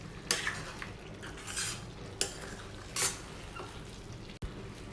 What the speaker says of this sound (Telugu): మసాలా అంతా యాడ్ చేసిన తర్వాత మసాలా అంతా కూడా బాగా కలిసేటట్టు మిక్స్ చేసుకోవాలండి.